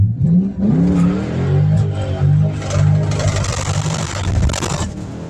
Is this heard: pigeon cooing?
no